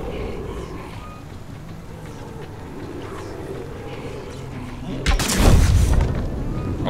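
A single loud rifle blast rings out in the zombie video game Dying Light, a sharp boom with a short rumbling tail over steady game ambience.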